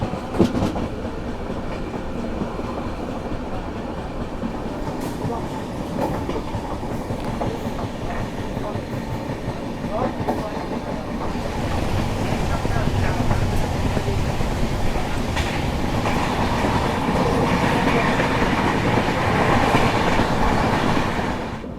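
The Humsafar Express rolls through Assam between Badarpur and Guwahati, a continuous rumble of wheels on rail with steady clickety-clack, growing louder and rougher in the second half, with no talk.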